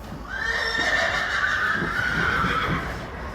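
A tall black-brown horse with a white star and snip on his nose, upset and off his feed, lets out one long, wavering neigh that rises and falls for about three seconds, close and clear, with no voices.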